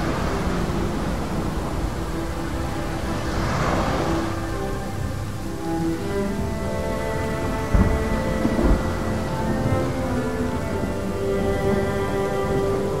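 A thunderstorm in the video game Rime, with steady heavy rain hissing throughout and low rolls of thunder rumbling beneath it, one sharper crack landing partway through; no voices.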